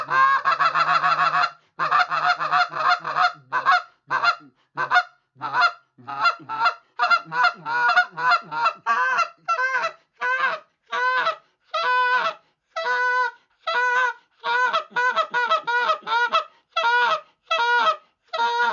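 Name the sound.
goose call imitating goose honks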